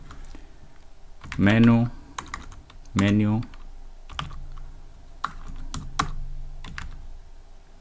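Keyboard typing on a computer while writing Python code, a run of quick key clicks between stretches of a man's speech, close and moderately loud.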